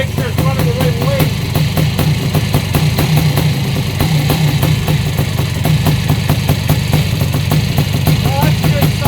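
A Yamaha YZ490 dirt bike engine runs loudly and steadily at idle, its rapid even firing pulses continuous throughout, with a voice briefly heard over it.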